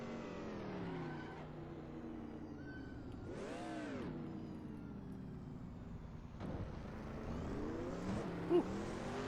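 Racing car engines from the Assetto Corsa video game, including a white-liveried McLaren on the 1960s Watkins Glen circuit, whine and rise and fall in pitch through gear changes, with a sharp rev swell near the middle and continuous engine drone throughout.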